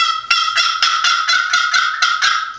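A loud, sharp custom turkey cutter call by Jack Scott sounds off in a rapid run of clipped, cutting yelps, close and piercing, with no talking.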